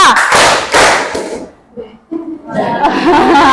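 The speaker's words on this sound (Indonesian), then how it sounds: "Tepuk tangan 1, tepuk tangan 2." A group claps in unison on command during a school coaching session, producing loud bursts of clapping with a short pause in the middle, mixed with voices.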